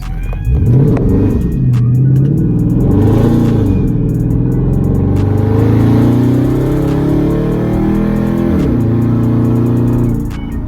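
A Dodge Charger SRT with straight pipe exhaust revs hard and close, a loud throaty engine rising and falling in pitch through several long pulls with harsh, raspy crackle.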